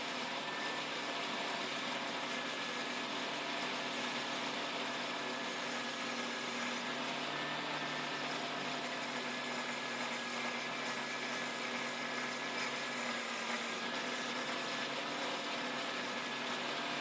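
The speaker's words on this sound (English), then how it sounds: "Just a few passes over the wheel, and the ink should be gone and the tool sharp." A homemade sharpening wheel turning at about 100 RPM grinds a wood turning tool, a steady close mechanical whir and hum that runs without pause and without talk.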